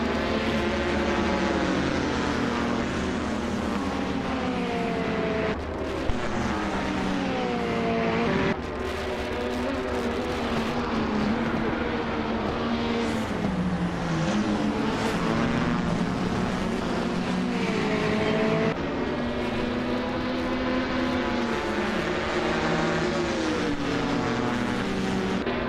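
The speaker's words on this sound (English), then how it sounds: "Maya is starting from pole position, driving a sleek 2019 BMW M8 GT in the GTA class." Sustained race car engine of a 2019 BMW M8 GT in a GTA-class video game race, a loud continuous drone with shifting pitch and brief dips at gear changes, steady and close throughout.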